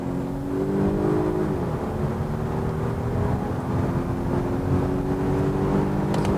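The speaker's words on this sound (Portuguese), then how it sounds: "Vou reduzir primeiro para 60 km por hora, Depois vamos acelerar tudo até 120" Volvo S90 Inscription hybrid accelerating hard from 60 to 120 km/h, a steady loud engine drone heard from inside the cabin with rising tones that climb smoothly, plus constant road and wind noise and no talk.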